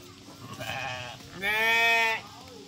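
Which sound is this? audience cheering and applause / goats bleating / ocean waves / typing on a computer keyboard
goats bleating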